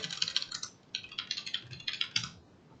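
Typing on a computer keyboard: quiet, rapid key clicks in two or three short bursts with brief pauses between them, close by and with no voices.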